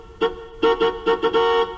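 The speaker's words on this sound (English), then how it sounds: "car horn" A car horn toots in a quick irregular series of short and longer honks, loud and close, with brief gaps of silence between them.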